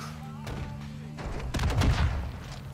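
Gunfire in the video game Call of Duty DMZ, several loud shots and thumping bursts, heaviest in the second half, with a player's voice heard briefly.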